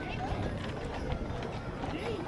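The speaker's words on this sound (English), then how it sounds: "Pulled by a Belgian draft horse hitch" Hooves of a Belgian draft horse hitch pulling a float in a nighttime children's Christmas parade, a continuous clip-clop on pavement beneath crowd noise and talking nearby.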